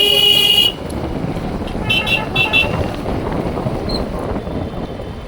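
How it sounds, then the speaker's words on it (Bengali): Congested road traffic with car horns tooting in the opening moments, then a steady rumble of idling and crawling vehicles continuing underneath, with a few faint higher squeaks later on. "ওই যে রাস্তায় কত জ্যাম দেখো।"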